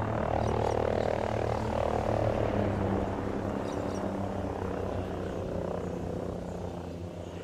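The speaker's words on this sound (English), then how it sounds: "I got eyes on an enemy chopper." Enemy helicopter in the Ghost Recon video game, heard as a steady, fairly loud low rotor drone with swamp frogs croaking over it, fading slightly toward the end.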